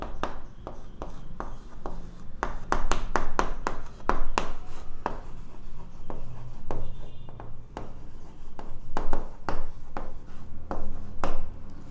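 Marker or chalk strokes scratch steadily across a classroom board as a maths answer on quadratic equations is written, a close, rhythmic series of short rubbing taps lasting throughout, with no talking.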